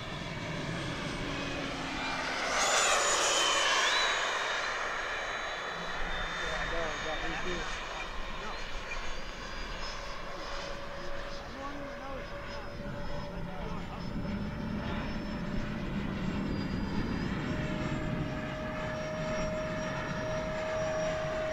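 Radio-controlled F-86 model jet flying past, its turbine whine swelling to a close peak early on and then fading into a distant steady hum, with a voice talking underneath.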